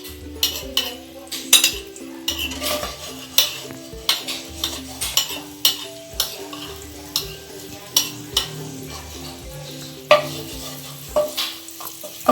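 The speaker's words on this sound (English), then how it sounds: "we only fry the Nutella strawberry only 2 minutes" Nutella strawberry rolls frying in a pan, a soft sizzle under frequent utensil clinks and scraping stirs in an uneven rhythm, up close, without talk.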